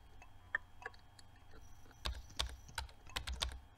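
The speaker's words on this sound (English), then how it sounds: "press keys to type a message." Computer keyboard typing while playing a game, a quiet scatter of a few keystrokes followed by a quicker burst of clicks near the microphone, faint and without speech.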